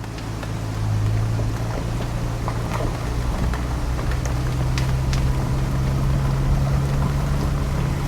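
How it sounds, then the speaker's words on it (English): A Ford Bronco drives in 4-wheel high on a Georgia mountain route near Helen and Vogel State Park, heard as a loud, steady low engine-and-road drone inside the cabin with faint scattered rattles. "All right, you are in 4-wheel drive there, Bronco."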